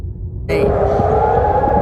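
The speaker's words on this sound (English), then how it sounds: "Air raid sirens could be heard today in Jordan" After a brief low rumble, a loud sustained air raid siren tone in Jordan starts abruptly and holds steady, with a rough, harsh texture.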